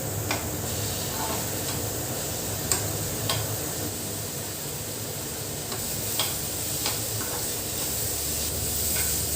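Steady sizzling and hissing of radish sautéing in oil, with occasional soft stirring clicks, close and continuous throughout.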